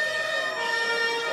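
Emergency sirens wailing around a classic car show featuring Alfa Romeo Montreals, a steady sustained high tone with layered harmonics, fairly loud and continuous for the whole short stretch, with no talking.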